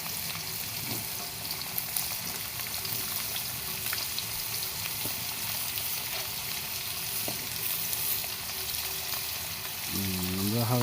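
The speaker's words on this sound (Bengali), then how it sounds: "আলুটা হালকা আমরা ভেজে নেব" Potatoes frying in a pan, a steady close sizzle that continues throughout, with faint stirring and a brief clatter near the end.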